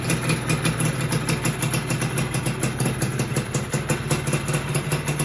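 A Force 1 motorcycle engine with a modified magnet idles steadily up close, a rough, even mechanical rumble with constant vibration and no voices.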